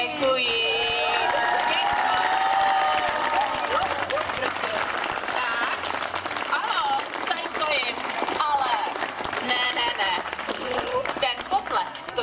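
An audience applauds a children's performance, loud continuous clapping and some cheering from a crowd, with music and voices running over it for the whole stretch.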